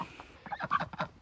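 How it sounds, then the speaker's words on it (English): A chicken clucks in a few short, close, lively bursts over about a second, loose in a yard where people are trying to catch it. "I'm gonna try to grab this chicken."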